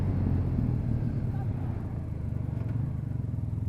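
A Honda Crosstourer DCT 1,237cc motorcycle engine pulls hard from low revs, a deep, steady, close rumble with a voice partly over it.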